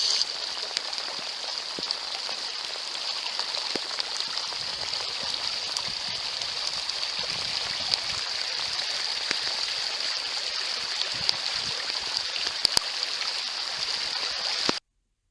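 A stream of water flowing after heavy winter rain on farmland, a steady, loud, continuous rushing and babbling that holds without a break and stops abruptly at the end.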